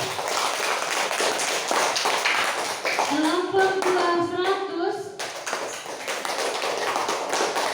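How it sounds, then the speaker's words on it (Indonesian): Schoolchildren in a classroom clap their hands together in a dense, continuous burst of rapid taps, with a voice rising briefly partway through and a teacher speaking. "Tepuk tangan."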